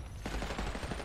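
Automatic gunfire in the video game Black Ops 6: a fast, faint run of rapid shots rattles in a steady rhythm for about a second, ending in a sharper burst.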